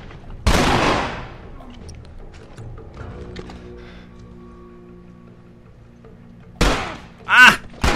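Assault rifle fire in The Last of Us comes as one loud burst near the start, then fades into quiet game ambience before two more sharp, close shots near the end.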